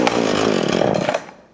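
A Husqvarna 450 chainsaw, just given a tune-up, runs loudly and close by with a buzzing two-stroke rattle for about a second before quickly dying away.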